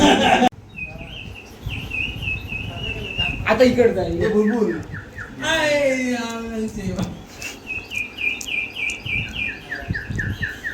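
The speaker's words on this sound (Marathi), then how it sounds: "त्यात पाणी टाकल्यानंतर चिमणीसारखा आवाज येतो" A water-filled sparrow whistle toy trills in bright, warbling chirps, repeated in bursts close by, with someone speaking between the whistles and busy outdoor noise around a hill fort.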